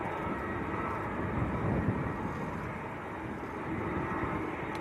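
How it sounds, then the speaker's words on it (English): Airbus A330 jet engines at Manchester Airport give a faint, distant, steady rumble and whoosh with a slight swell midway, heard alone. "These A330s sound wonderful."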